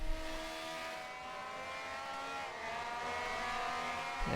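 Race car engine in a sim racing game, set in a vintage grand prix league, droning loudly and steadily with layered harmonic whine throughout, a slight dip midway and a brief rise at the end, with no talk.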